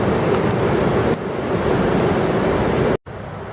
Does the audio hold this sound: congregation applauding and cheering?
no